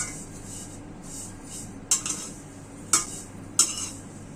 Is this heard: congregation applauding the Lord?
no